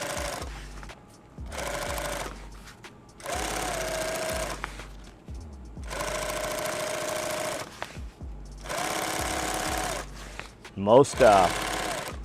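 A sewing machine stitches webbing on a kit bag in several loud bursts of rapid needle chatter, separated by short pauses for repositioning, with someone talking at one point.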